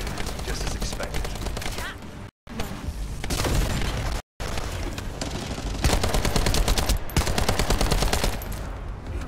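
Gunfire from the video game The First Descendant crackles in rapid, loud automatic bursts, broken by two brief silent gaps, with heavy impacts layered through the shooting.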